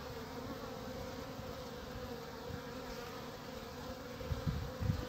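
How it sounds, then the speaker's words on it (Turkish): Dense, continuous droning buzz of many honeybees in a queenless colony close by, a steady low moaning hum that swells slightly toward the end. "Böyle inleyerek vızıltı yapıyorlar."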